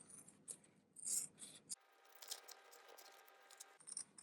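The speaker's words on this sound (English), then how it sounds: "I'm going to trim the excess away on the corners here and cut little slits" Scissors trimming the fabric corners of a sewn wallet, a few quiet, close snips and rustling cuts with short gaps between them and no talking.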